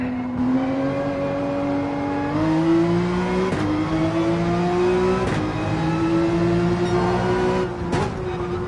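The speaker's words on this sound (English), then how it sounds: "Full throttle through this section" A car engine held at full throttle in Gran Turismo 7 during a weekly race climb, a steady high-pitched drone rising slowly through the rev range with brief clicks at gear shifts, loud and continuous with no talk.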